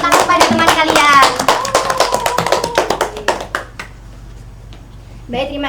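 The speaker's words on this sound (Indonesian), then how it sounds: "Beri tepuk tangan pada teman kalian." A classroom of students claps their hands for a classmate during a microteaching lesson, a burst of close, sharp claps that starts out dense and thins into scattered slaps before fading, with a voice returning at the end.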